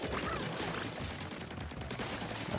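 A weapon in the video game Splatoon 3 fires rapidly in a dense, continuous burst of quiet shots.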